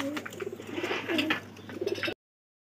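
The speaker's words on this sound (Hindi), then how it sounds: "और कबूतर देखो" High flyer pigeons coo softly and steadily around their loft setup for about two seconds, a close, continuous murmur of overlapping calls that then falls silent.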